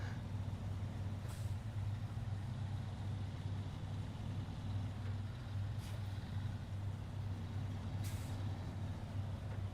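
A heavy truck in the snowy night driving game SnowRunner, a steady low engine drone with a constant hum, plus a few brief airy hisses like air brakes, continuous and fairly quiet, with no talking.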